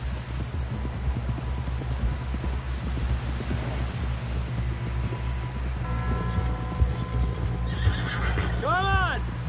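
A horse whinnies loudly near the end in Red Dead Redemption 2, a rising then falling neigh, after hooves and rustling movement with wind-like noise throughout.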